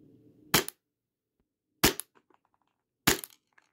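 Three sharp gas-powered shots from an AAP01 airsoft pistol firing 0.25 gram BBs with an under-filled gas magazine, evenly spaced over a second or so apart, each a loud crack with a short rattle of BBs after.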